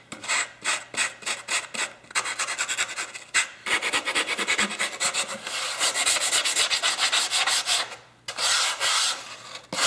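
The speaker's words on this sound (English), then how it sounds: "I use a sanding block and about 220 grit paper. And just work your way around the outside." Sanding block with 220 grit paper rubbing around the perimeter of a model stunt biplane fuselage, close and scratchy in quick back-and-forth strokes with brief pauses between passes.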